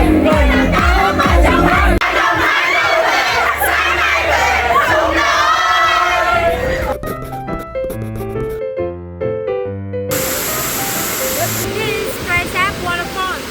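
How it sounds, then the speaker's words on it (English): A large group of people sings and shouts together outdoors in a loud, energetic chorus of overlapping voices, then gives way to music and scattered calls. "Singing and shouting together like this was such a huge stress reliever."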